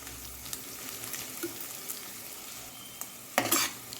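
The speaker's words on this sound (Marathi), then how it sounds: "दोन तीन मिनिट फ्राय करून घ्यायचे छान वाटाणे गाजर आणि सिमला मिरची आपली" Peas, carrots and capsicum stir-frying for pulao, a quiet steady sizzle with small stirring taps and a sharper clatter of the spatula against the pan near the end.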